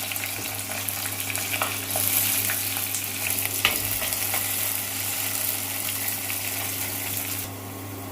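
Ginger, garlic, onion and green chilies fry in hot oil for a mackerel curry, giving a steady close sizzle with light stirring scrapes throughout and no talk.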